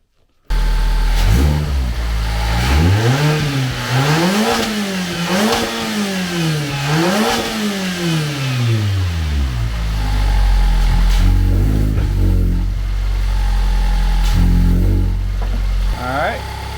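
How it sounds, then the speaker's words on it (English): A 2019 Mazda MX-5 ND2 running on E85 fuel cranks and starts, then its engine runs and revs up and down repeatedly, loud and close, with a steady idle between blips. "Then I'm going to start the car."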